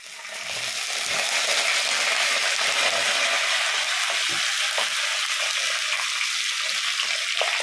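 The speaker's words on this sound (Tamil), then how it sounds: "கருவேப்பிலை பொரிஞ்ச உடனே நம்ம வெட்டி வச்ச கத்திரிக்காவை முதல் சேர்க்க போறோம்." Cut brinjal hits curry leaves frying in hot oil, setting off a loud, continuous hissing sizzle that swells up quickly and then holds steady.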